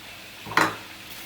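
A spoon clinks against a pot while stirring chicken in red sauce, one sharp metallic knock with a short scraping tail, close and otherwise quiet.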